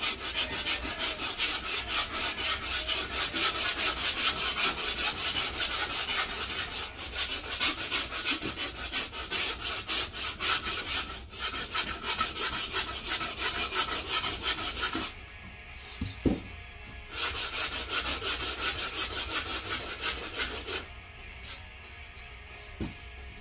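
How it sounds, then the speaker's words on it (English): Continuous dry rubbing and rasping of sandpaper against a foam skateboard mold, close and steady with short pauses near the end; no voices. "I think I am gonna sand it down to that."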